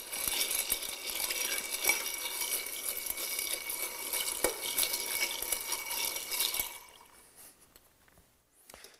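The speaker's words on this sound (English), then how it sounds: "this drink is properly stirred rather than shaken" Ice clinking and scraping as a Bordeaux cocktail is stirred in a mixing glass, a steady close rattle that stops abruptly near the end, with no talking.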